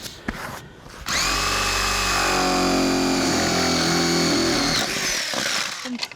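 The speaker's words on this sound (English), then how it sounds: "get a paddle bit and a drill to drill a hole through the decking to make it easier to get our saw blade in" A power drill fitted with a paddle bit bores a hole through roof decking, a loud close motor whine sustained for about four seconds, with brief handling knocks before and after.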